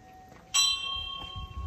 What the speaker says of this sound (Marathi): मंदिरातली घंटा.